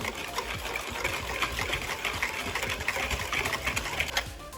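Pancake batter being mixed with added milk, a steady wet whisking and sloshing in a bowl, close and continuous with a rhythmic beat throughout, no talking.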